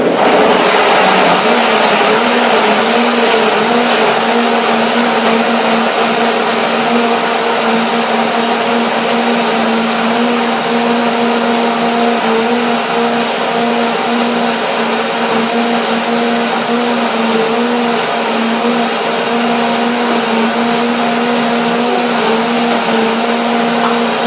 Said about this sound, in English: So I put the liter of water onto my ingredients in the blender, lid on, and blender gas.